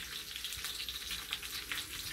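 Honey garlic sauce for lamb chops simmers in a pan with a soft, continuous sizzle and gentle bubbling, faint and close.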